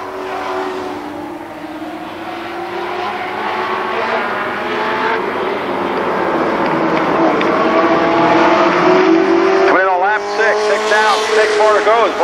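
Race cars roar around a motor speedway during a 1995 main event, a loud continuous engine drone with passing swells, while an announcer commentates over it.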